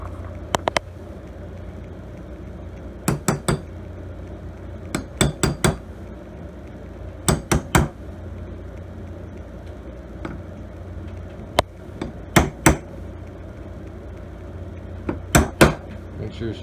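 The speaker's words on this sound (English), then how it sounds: "Grooves out, then you tap it in. So I got a hammer." A hammer drives a socket to tap a dust seal flush on a 2000 Mercury 250 tilt-and-trim unit, producing short clusters of crisp metallic knocks spread through a quiet stretch, with several pauses between groups.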